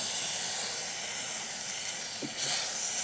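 Tomato-based sauce with onions simmers and bubbles in an oiled pan, giving a steady close hiss with faint low bursts near the end.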